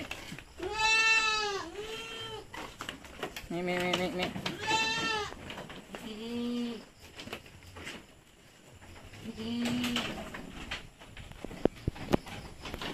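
Purebred Anglo-Nubian goats bleating repeatedly at close range, several loud wavering calls spaced through the clip with quieter farmyard background between them.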